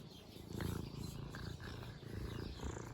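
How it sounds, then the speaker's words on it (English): A cat purrs close to the microphone in a continuous, rhythmic low rumble, steady and soft with no talking over it. "You're purring."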